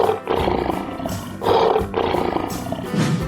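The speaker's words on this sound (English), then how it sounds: "Lion." A lion roars loudly and close in several long, rumbling bursts, each swelling and fading with short breaks between, in a toy-style animal sound sequence.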